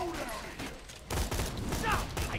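Gunfire from the video game Borderlands 2, bursts of shots crackling under a player's talk, fairly dense and steady through the moment.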